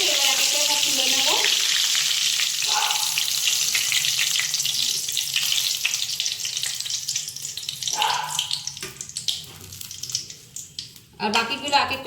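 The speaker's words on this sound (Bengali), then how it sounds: "আর বাকিগুলো এক এক করে সব ভেজে নেব।" Paneer pieces fry in hot oil, giving a continuous, fairly loud sizzle that fades slightly toward the end, broken by a few clinks and scraping sounds of handling.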